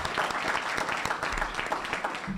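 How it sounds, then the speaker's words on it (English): Audience applause at an evening sports management competition event, a steady dense wash of many hands clapping from a nearby crowd, sustained and fairly loud throughout with no pauses. "Round of applause, okay,"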